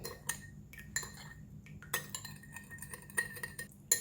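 Utensil stirring and mixing a sauce containing oyster sauce in a bowl, with light, irregular clinks and scrapes of metal against the dish, close and fairly quiet, with no talk.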